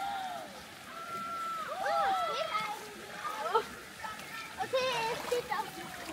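Splashing as someone wades into cold water on a camping trip in the Black Forest near Dornstetten, with sloshing bursts under a song and voices.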